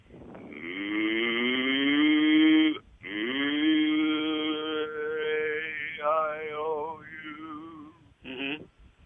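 A man imitates a cow with his voice, producing long, drawn-out mooing calls, the first rising and sustained, the second longer and wavering, followed by a brief short moo, loud and close.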